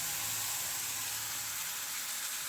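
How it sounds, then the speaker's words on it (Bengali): A spice paste of onion, ginger, garlic and tomato fries in oil with whole cumin, coriander and dried chillies, giving a steady, close, even sizzle with no voices. "মশলাটা দিয়ে এবার কষিয়ে নেব"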